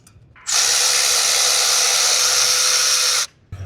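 An air or power tool loosening the bolts on the EGR valve of a 2019 Dodge 6.7L Cummins diesel engine, one loud continuous high whir of about three seconds, close by, then a brief click.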